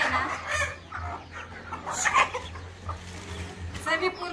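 Hens cluck softly in scattered bursts as they eat salted flour-mill waste feed, fairly quiet, with a low steady hum running underneath and faint background voices.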